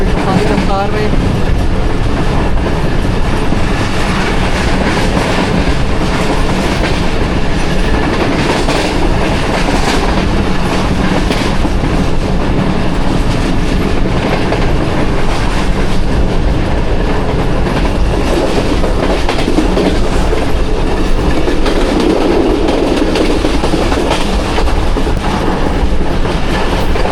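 A passenger train on the Hazara Express branch line races at high speed, its loud, steady rumble and rapid clickety-clack of wheels on rails continuing throughout with no break.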